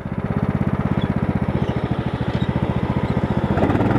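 A tractor mower engine chugs in a fast, even pulsing rhythm while driving, loud and close, with the throttle picking up slightly near the end.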